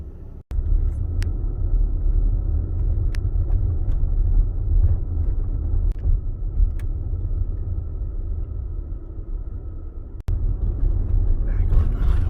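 A Tesla rolling along a highway near Tucson, heard from inside as a steady, loud low road rumble with constant tire and wind noise and a few faint clicks.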